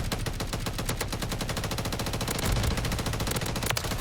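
A spool-up gun in Call of Duty fires a rapid, sustained automatic burst, steady rattling shots packed tightly for the full stretch, loud and continuous with no talk.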